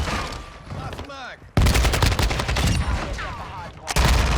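Gunfire in Modern Warfare 2 bursts in loud and close as rapid automatic shots, preceded by quieter game sounds and resuming after a brief pause.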